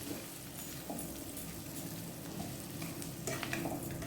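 Semolina stirred and frying in a pan for upma, vegetables and fried peanuts mixed in, giving a steady soft sizzle with scraping stirs throughout, close and moderately quiet with no talking.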